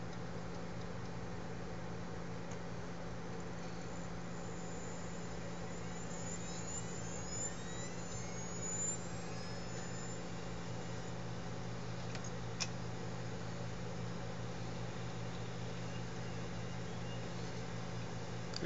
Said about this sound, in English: Soon the other 3 disks will spin up.